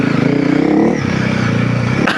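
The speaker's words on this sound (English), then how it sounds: "dual sport riding like this is still my absolute #1 jam" Honda CRF300L dual sport motorcycle running along a trail, a steady near engine drone that rises briefly in pitch before a short sharp knock near the end.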